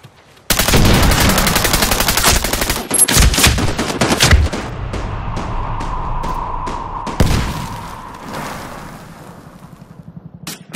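Rapid automatic gunfire bursts loudly in Medal of Honor Warfighter combat, followed by scattered single shots and a fading ringing tail, with no talk over it.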